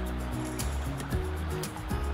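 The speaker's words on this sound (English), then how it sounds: "we've stumbled across the Clyde River" The Clyde River on the NSW South Coast flows with a steady, close rush of water, broadband and unbroken throughout, with low rumbling undertones.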